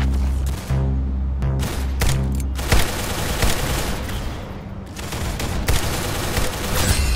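Rapid gunfire bursts from the Roblox shooter game Arsenal, loud and dense throughout, with sharp repeated shots over a steady low game background.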